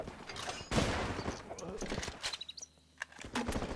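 Bursts of rifle and automatic gunfire from the video game Running With Rifles crackle in quick clusters, interleaved with someone talking over the shots.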